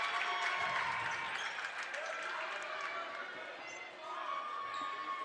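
NMC student section cheers loudly and continuously from the stands at a varsity boys basketball game, steady crowd noise with scattered shouts and claps and a brief dip near the end.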